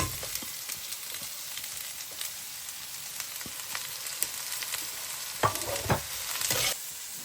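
Chopped onions frying in a pan for an Indian mixed vegetable curry, a steady close sizzle with scraping stir strokes and a few sharp clatters near the end, no voices.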